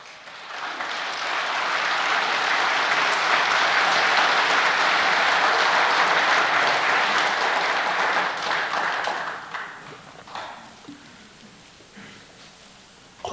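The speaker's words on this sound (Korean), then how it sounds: "알았으면 박수하지." A large audience at a religious sermon breaks into loud, sustained applause that swells over the first seconds and holds broad and full. It then thins and tapers into scattered claps and stray room noise toward the end.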